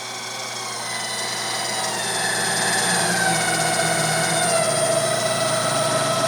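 A Jet 20-inch electronic variable speed drill press runs steadily at 1378 RPM, giving a continuous motor hum and whine that rises slightly in level and then holds.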